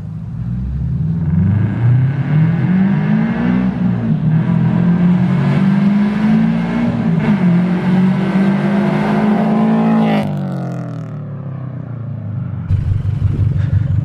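A Subaru BRZ fitted with a new full exhaust of headers, over-pipe and catback revs loudly up close, the engine held high for several seconds before dropping back to a rumbling idle.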